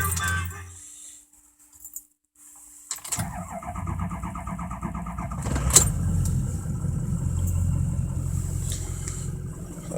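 Ford F250 diesel pickup cold-starting: a brief quiet after key sounds, then the engine cranks and catches near the microphone, settling into a loud, rough clattering idle that holds steady to the end.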